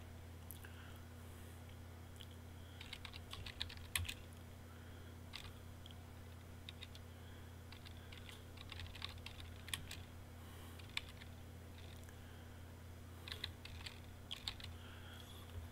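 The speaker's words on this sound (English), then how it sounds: "So let's go ahead and type that in." Fingers type on a computer keyboard, soft irregular bursts of clicking keys over a faint steady electrical hum, quiet and close with no speech.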